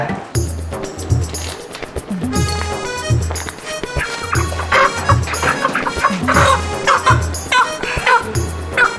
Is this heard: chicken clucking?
yes